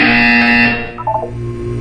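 A buzzer in the video game Portal 2 gives one harsh, steady electronic drone for under a second and then cuts off, leaving quieter background sound.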